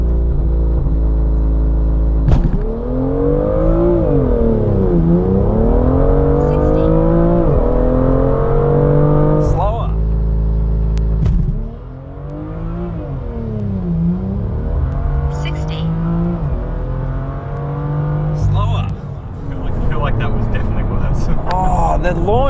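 A BMW M2 with a DCT gearbox on a full E85 tune and Michelin Pilot Sport Cup 2 tyres launches hard, its engine roaring loud and close with rising and falling revs through quick gear changes over a sustained run.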